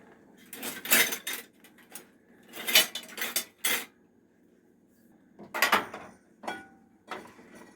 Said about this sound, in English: Let's stir what we got going on here.